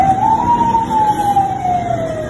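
Police siren on a city street holds one long, steady wail that slowly rises and then falls, loud over traffic rumble.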